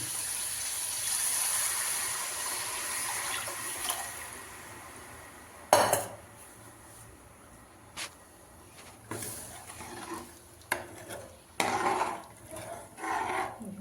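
Water splashes into a pan of cooked masala and tomatoes for a matar paneer curry, with a sudden pour followed by scattered clatters and stirring knocks of a utensil against the pan.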